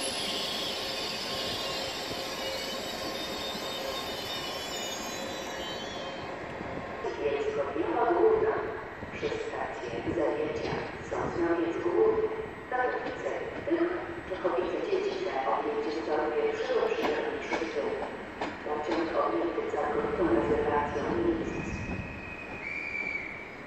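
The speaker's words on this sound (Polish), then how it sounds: "Pociąg EIP z Gdyni Głównej do Bielska-Białej Głównej" An EIP express intercity passenger train rolls past with rhythmic clattering of wheels over rail joints and some metallic squeal, growing louder midway and continuing steadily.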